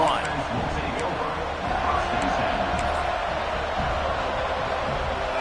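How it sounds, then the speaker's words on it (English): Football stadium crowd, a dense continuous roar filling the space at steady loudness, with an announcer talking over it. "This crowd ready to make its presence known."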